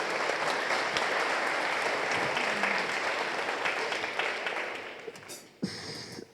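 Audience applause at a school instrumental concert and art show, a steady roomful of clapping that thins out and fades near the end, with a few isolated knocks.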